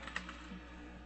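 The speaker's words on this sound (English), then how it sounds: "Let me type this in here." Typing on a computer keyboard while placing an options trade, heard as a brief run of faint, soft key clicks over a steady low background hum.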